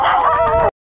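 A stray dog on a beach gives one loud, close, drawn-out bark or yelp that lasts under a second and then cuts off to silence.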